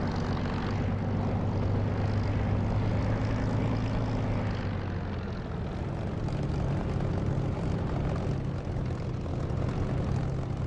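Steady propeller engine drone of a Spitfire Mk IX warplane in the DCS flight simulator, a loud continuous piston roar with low harmonics holding throughout, shifting slightly in pitch midway.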